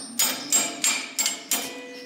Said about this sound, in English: Using a crescent wrench as a hammer.